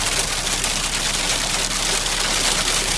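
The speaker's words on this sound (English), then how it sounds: "Now we have the hail," Hail falling in a storm on a farm, a dense steady hiss and rattle of hailstones pelting surfaces, constant and loud with no voices.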